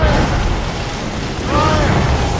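Ship cannons firing in a naval battle in Assassin's Creed Rogue, a dense rumbling boom that swells and rolls on, loud and close, with a voice shouting beneath it.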